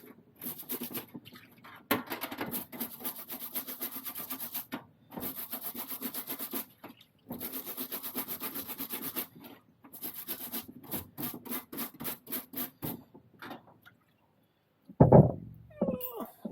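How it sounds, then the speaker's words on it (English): A brush scrubs a bicycle chain in repeated bursts of harsh back-and-forth rasping with short pauses between strokes, close and fairly loud, ending with a louder knock. "I've scrubbed it and sprayed it a couple of times now."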